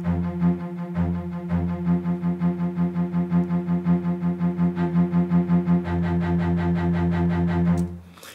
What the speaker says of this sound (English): Now, we have a cello staccato, and these are from orchestral again, strings, cello staccato.